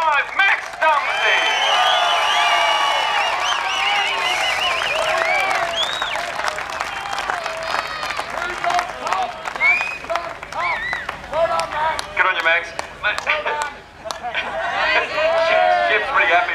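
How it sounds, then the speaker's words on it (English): A crowd at a sprint car speedway in Warrnambool applauds and cheers the feature winner during the trophy presentation, a dense, steady wash of clapping with whoops and chatter throughout. "Can I have a nice round of applause for your feature winner tonight"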